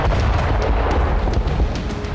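A drone explosion strikes Moscow during a nighttime attack, a loud, deep rumbling blast that rolls on with heavy low-end booms and crackling bursts for a couple of seconds, with no voices.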